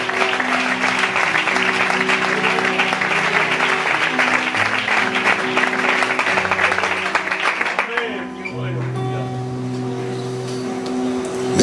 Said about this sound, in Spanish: Da un aplauso a la sangre del cordero.